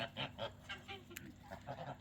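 Several geese, including Kholmogory geese, honk and cackle in quick, overlapping calls, close by, with a low steady background noise.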